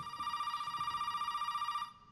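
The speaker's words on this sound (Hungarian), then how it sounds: "Na, megint ez a kurva telefon." A telephone ringing in the video game Resident Evil 7, a steady electronic ring held for nearly two seconds before cutting off abruptly, fairly close and without talk.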